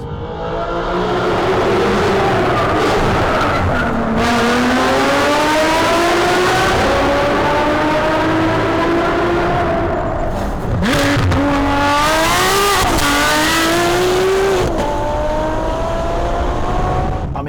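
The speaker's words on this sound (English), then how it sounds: "How do you describe a 6-litre V12 that produces 661 horsepower and sounds like this?" A Ferrari 599 GTO's 6-litre, 661-horsepower V12 revs hard and loud, close by and alone, its pitch climbing and falling across several gear changes, with brief dips between pulls.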